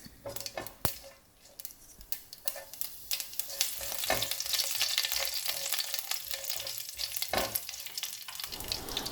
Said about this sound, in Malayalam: കടുക് പൊട്ടുമ്പോൾ കുറച്ച് കറിവേപ്പില കൂടി ചേർത്ത് കൊടുക്കണം.